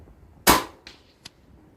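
A single sharp sub-12 ft-lb air rifle shot cracks loudly and close, then decays quickly, followed by two faint clicks or pellet impacts moments later.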